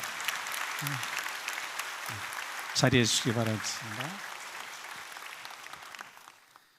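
A church congregation at a Sunday service applauds award winners, a warm burst of clapping that swells and then tapers off while a speaker talks over it.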